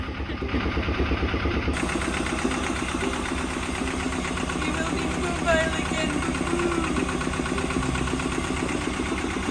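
A boat engine idles with a steady low chugging throb that continues evenly for several seconds, fairly close, with faint background noise.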